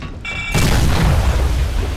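A smoke grenade going off in a shooter game: a short metallic ping gives way to a loud, sustained rushing hiss with low rumble that fills the rest of the moment.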